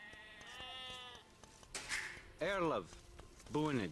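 Sheep bleating in the real-time strategy game Age of Empires II, a few short wavering bleats with pauses between, fairly clear over quiet game ambience.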